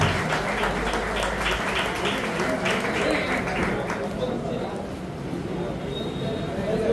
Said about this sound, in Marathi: एकदा जोरदार टाळ्या वाजवते गावकर बुवांसाठी